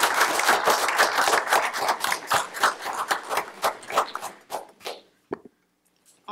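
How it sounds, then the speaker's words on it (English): Hearty applause at a Harlingen city commission meeting, a room full of hands clapping loudly and close, thinning out toward the end and stopping before a few last stray claps. "Can we all give Miss Aria another round of applause?"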